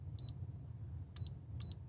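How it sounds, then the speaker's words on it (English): An electronic component tester gives three short, high electronic beeps as menu options are selected: one early, then two close together near the end, faint over a low background hum. "English has a beep as we select"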